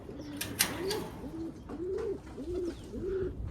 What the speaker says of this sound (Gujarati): કબૂતર અત્યારે બેઠા છે ઉપર